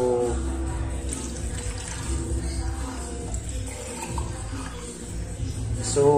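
Water pours steadily into marble cake batter for several seconds, a continuous splashing gurgle close by, with faint background noise.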